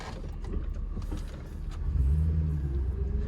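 A 1999 Dodge Dakota V8, freshly tuned, runs close by with a low rumbling note that swells into a brief rev partway through, then holds a deeper steady drone, with no one speaking.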